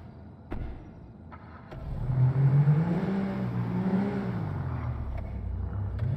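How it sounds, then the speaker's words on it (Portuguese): A police car in GTA V zombie realism mode pulls away, its engine rising into a steady revving drone with a few clicks and knocks, close and fairly quiet, with no one talking. "vamos pegar o nosso carrinho aqui da polícia"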